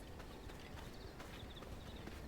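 Horse hooves clip-clop steadily in the game V Rising, a quiet, even walking rhythm under a low background bed with no talk.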